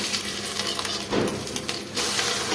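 An egg fries in a pan with a steady, close sizzle throughout, broken by a brief scrape or clink near the middle.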